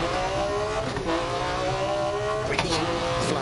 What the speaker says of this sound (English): the noise this Metro makes